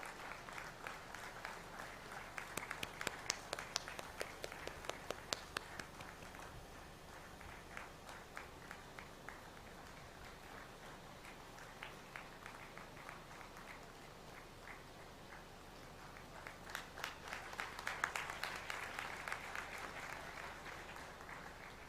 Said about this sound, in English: A big hand of applause for Miss Ayushi Tandon